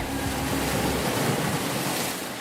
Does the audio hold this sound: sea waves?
yes